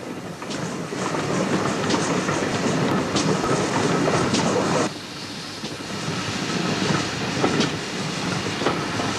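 A railway steam crane is shunted about in an industrial yard, giving a steady rumbling, hissing wash of rolling rail noise with faint clicks, which drops in level partway through and then continues.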